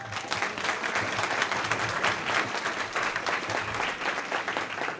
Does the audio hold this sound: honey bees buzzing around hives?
no